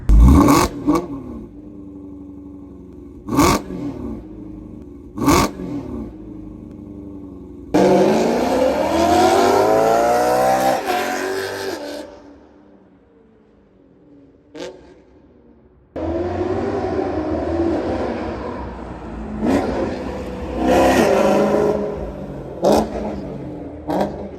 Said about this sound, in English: So let's see how this new exhaust setup sounds.